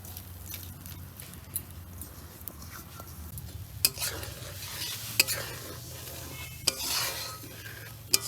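A spoon stirs jaggery into a Bengali dish frying in a pan, with steady sizzling throughout and occasional sharp scrapes and clinks of utensil against metal, no talking.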